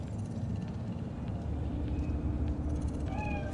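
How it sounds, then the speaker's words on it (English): A cat in the video game Cyberpunk 2077, a short meow near the end rising over a steady low-pitched city hum and engine-like background drone. "Do you see it? The cat?"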